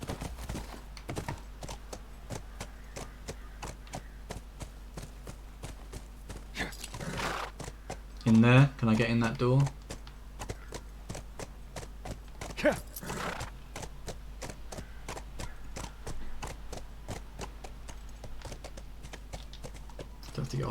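A horse in The Last of Us clip-clops at a steady, regular rhythm for the whole stretch, with a short whinny midway and someone talking over it now and then.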